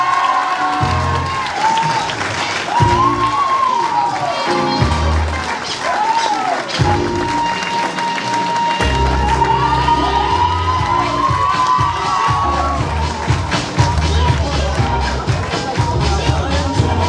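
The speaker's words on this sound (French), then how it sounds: "je vous demande d'applaudir très fort Adeline Boisard" A loud crowd at a national youth beauty pageant applauds and cheers a contestant, with whoops and shouts rising over dense clapping and music playing throughout.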